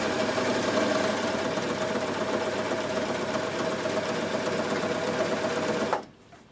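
A Bernette b62 coverstitch machine sews fabric in one loud, steady, continuous run of close motor hum and needle chatter, stopping abruptly near the end.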